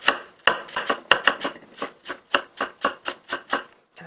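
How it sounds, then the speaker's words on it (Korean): Rapid, regular knife chops of radish being sliced into thin strips on a cutting board, a steady series of about a dozen crisp, close taps with short pauses between them. "밑에 놓은 상태에서 이제 무를 썰어줍니다"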